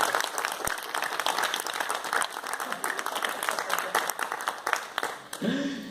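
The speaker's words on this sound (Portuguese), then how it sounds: "Por favor, palmas." Audience applause for a band at a concert in Teatro Lauro Gomes: dense, steady clapping from a large crowd fills the hall throughout, and a voice comes in near the end.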